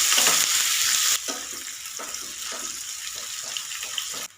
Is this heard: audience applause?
no